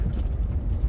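A low-slung car rolls over a bumpy railway level crossing in Dunavarsány, making a close, steady low road rumble with slight jolts and no voices.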